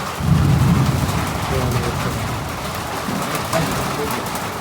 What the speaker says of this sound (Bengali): বিদ্যুৎ চমকাইতেছে বজ্রপাত হইতেছে প্রচুর